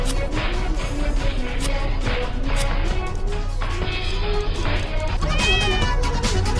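Repeated cat meows sound over busy, loud game music in the Nyan Cat: Lost in Space game, the mewing tones rising and falling throughout.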